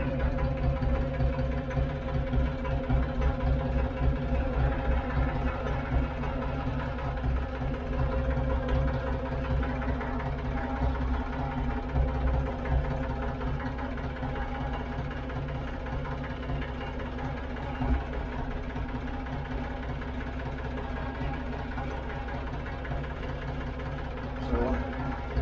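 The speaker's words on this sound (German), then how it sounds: "Jetzt fahre ich erst einmal den Ausleger in die richtige Position." A machine's engine runs steadily at a low, even drone while its boom is moved into position, with someone talking over the continuous hum throughout.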